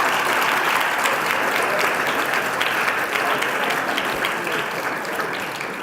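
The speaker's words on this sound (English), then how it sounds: "My speech says, wait for applause." An audience at a college awards ceremony applauds in a dense, steady wash of many hands clapping, full and close, tapering slightly at the end. No voices are heard.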